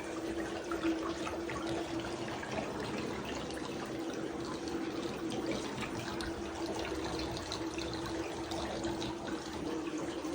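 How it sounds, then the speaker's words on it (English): Bathwater drains steadily from a tub in a tiny house bathroom, a continuous even rush and trickle that holds at the same level throughout, close by with no talking. "And so when you go to drain this tub,"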